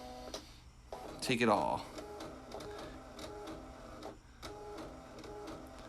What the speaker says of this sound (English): So now we're printing.